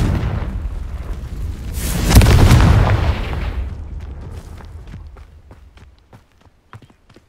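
In the video game Hogwarts Legacy, a Confringo fire spell detonates with a deep rumbling boom that swells and slowly decays, followed by scattered small crackles and footstep-like taps as it fades out.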